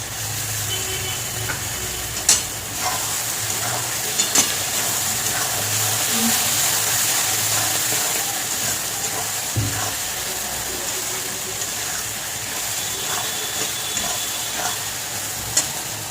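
Onions and poppy seed paste with green chilli are slowly fried in a pan without water, giving a moderate, steady sizzle with occasional spatula scrapes and taps over a low hum.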